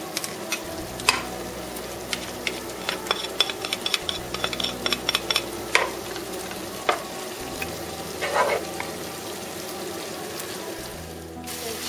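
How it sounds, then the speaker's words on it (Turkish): Tomato paste fries in butter in a pot with a steady close sizzle, while a utensil stirs and scrapes against the metal in irregular clicks. "Salçayla birlikte kavuralım."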